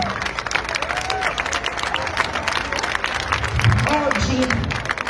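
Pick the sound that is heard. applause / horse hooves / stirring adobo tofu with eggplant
applause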